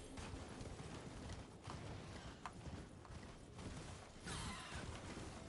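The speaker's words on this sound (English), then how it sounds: "running about on a horse" Horse hooves clip-clop in a steady running rhythm inside the video game Crash Bandicoot 4, close and moderately loud with some mechanical clatter mixed in.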